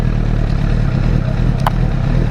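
A Honda CBR1000RR race motorcycle rides through the streets of Madinaty with a loud, steady engine drone that holds throughout and shows no clear revving or pauses.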